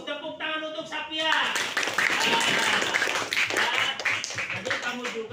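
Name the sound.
class applauding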